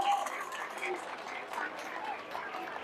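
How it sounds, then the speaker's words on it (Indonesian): Audience clapping at a haflah imtihan celebration at Pondok Pesantren Nurussalam in Palen village: a dense, steady wash of applause that lasts throughout, with crowd voices mixed in. "Tepuk tangan dong."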